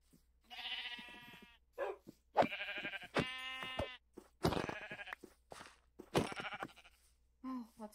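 Minecraft goats bleat repeatedly in a videogame, a series of nasal, wavering calls in separate bursts of varying length, fairly clear against an otherwise quiet background.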